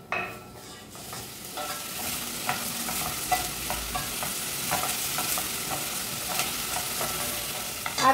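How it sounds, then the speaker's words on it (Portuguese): Chopped onion frying in a pan before ground beef is added, a steady close sizzle with soft stirring scrapes and clicks, no voices. "Vou deixar a cebola dar uma boa murchada para depois acrescentar a carne."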